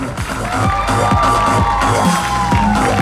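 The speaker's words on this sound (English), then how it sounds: "a big round of applause for your opening pyramid team" At a cheerleading competition, the crowd cheers and whoops for the opening pyramid team, loud and sustained, with rhythmic thumping music driving underneath.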